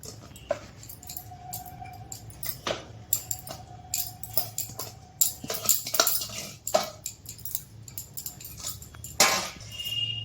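Rice for a homemade biryani is spooned into a pot in layers, producing scattered close clinks and scrapes of a metal spoon against cookware, with a dog whimpering faintly in the background.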